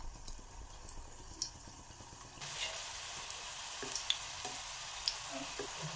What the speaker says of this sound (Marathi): आता हे कोफ्ते आपल्याला तेलामध्ये तळून घ्यायचे.